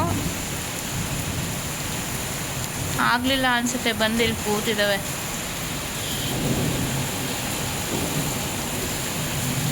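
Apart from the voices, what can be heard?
heavy rain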